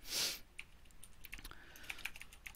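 Soft, rapid clicks of typing on a computer keyboard patter irregularly, faint and close, after a brief breathy burst at the start, with no one speaking.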